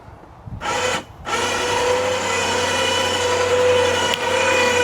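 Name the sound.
electric winch on a golf cart running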